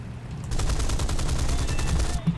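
Aircraft cannons fire in the War Thunder video game as a rapid burst of repeated shots lasting about two seconds, fairly loud over a low engine drone.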